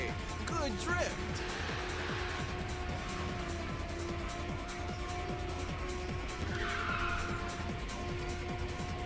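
A car drifts through a corner in the Ridge Racer 6 video game, tires squealing in sweeping high whines over a steady engine drone, with someone talking throughout.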